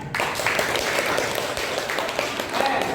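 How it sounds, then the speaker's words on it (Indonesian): Classroom applause for a student presentation during a teaching practice lesson: a short burst of close, busy clapping from a small group, with voices mixed in. "Yuk, tepuk tangan."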